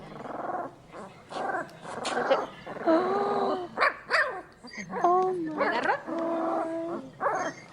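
A puppy barks, yips and growls in short bursts at close range, high-pitched and sassy, while a voice briefly reacts over the noise.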